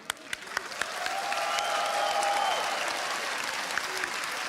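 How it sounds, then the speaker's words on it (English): A few isolated claps swell into full crowd applause and cheering at an ESL One Katowice 2015 CS:GO esports event honoring team Keyd Stars, holding steady with occasional sharp individual claps. "So a big round of applause for Keed."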